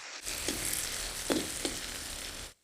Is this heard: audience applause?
no